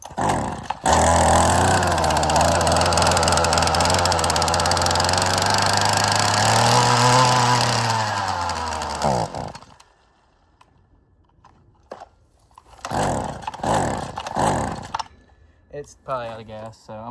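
A two-stroke weed whacker engine runs loud and buzzing for about nine seconds, its pitch rising and wavering, then cuts out, leaving a few short bursts of handling noise and sputters.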